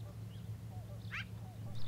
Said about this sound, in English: And geese, of course, given the opportunity, will always make noise.